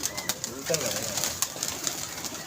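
Pigeons at a pigeon club coo in short, low murmurs amid scattered clicks and chirps, fairly near, with people talking in the background.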